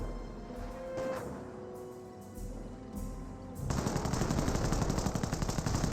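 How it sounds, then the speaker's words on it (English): An MG42 machine gun fires in Company of Heroes, with a rapid sustained burst breaking in after a few seconds of quieter battlefield ambience, heard at moderate distance. "MG42 now sitting on up."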